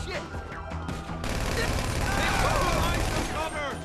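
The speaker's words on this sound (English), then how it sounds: "Who's shooting at me?" Gunfire rattles in Grand Theft Auto V during a gang attack, a loud sustained burst of shots and crashes layered over game effects, with someone talking over part of it.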